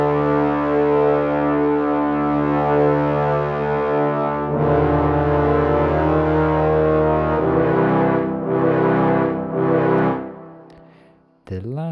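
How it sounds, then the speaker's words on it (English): Ominous low brass, French horns, trombones and tubas in octaves, play sustained deep chords low in their register, swelling in loud held blasts that shift pitch midway, then fade before a brief final stab. "one of the easy ways to make them sound ominous is to make sure they're playing really low in their register."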